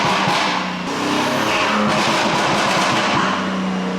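A BMW M3 engine revving hard on a dyno power run, a loud sustained roar with dense broadband noise throughout and no talking.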